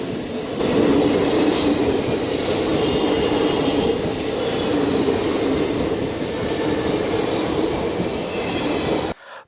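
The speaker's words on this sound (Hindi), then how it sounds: "कल आदित्य कुमार जी वापस मैलानी से जब निरीक्षण करके लौटे, उनकी स्पेशल ट्रेन की एक झलक।" A DRM's special train on the Aishbagh–Sitapur line rolls past the Daliganj level crossing, its steady rumble and wheel noise loud and close throughout with faint squeal, no talking.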